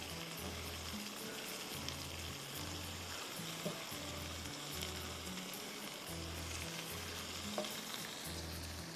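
Mustard seeds, curry leaves and red chillies sizzle in hot oil as a tempering, giving a soft, continuous crackling hiss with regular low thumps throughout.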